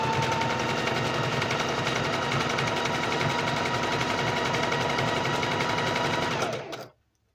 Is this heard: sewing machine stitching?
yes